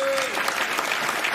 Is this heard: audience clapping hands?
yes